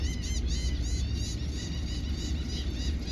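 Outdoors after an oyster festival, seagulls give a fast string of high, thin calls that repeat constantly over a steady low rumble of wind and distant activity.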